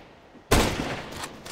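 A sniper rifle shot in Counter-Strike: Global Offensive, fired through cover in a Flying Scoutsman match, cracks out loud and sudden after a quiet start, then rolls into a long, noisy, broadband tail of reverberation lasting about a second.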